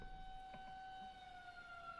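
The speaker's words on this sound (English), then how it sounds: "See, sirens, every time I hear them, it got me messed up now." A faint, thin siren tone holds steady in the background of an animated horror story about Siren Head, quiet and distant over low room noise, with no speech.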